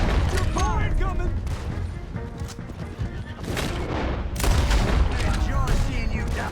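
Bursts of gunfire and booming shots in the Red Dead Redemption 2 video game, a chaotic shootout with overlapping volleys and a louder cluster near the end, shouting voices mixed in.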